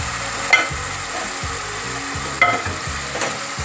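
A spatula stirs fried chicken into spaghetti frying in a pan, with steady sizzling under repeated scraping strokes and a few sharp clinks against the pan.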